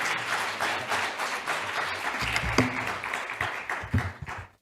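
Congregation applause in a Korean church during a prayer service, a steady burst of clapping across the room as the guest pastor is welcomed, with a few louder claps near the end before it fades out.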